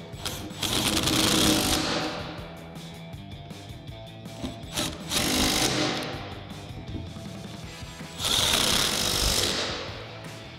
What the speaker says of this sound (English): Then we'll go ahead and tighten those down using our 14mm socket on our impact.